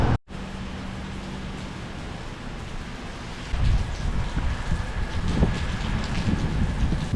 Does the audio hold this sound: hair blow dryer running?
no